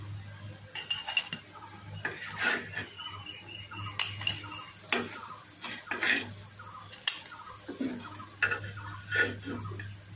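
Fried green pea kebabs are served out of a pan, with a series of sharp metal clinks and scrapes of a utensil against the cookware, spaced irregularly in a quiet kitchen.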